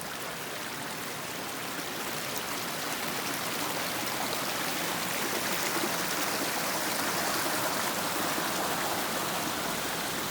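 Upper Potts, a mountain stream, rushes in a constant, dense wash of water noise that holds steady and close throughout, with no voices or other sounds.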